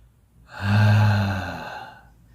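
A single breathy, aspirated Arabic 'ha' sound exhaled by a voice, rising and fading over about two seconds, close and alone.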